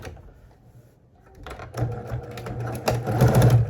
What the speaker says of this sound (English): I'm gonna sew right through it like that